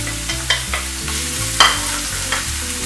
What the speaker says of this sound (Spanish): en este mismo aceitito vamos a añadir la cebolla picadita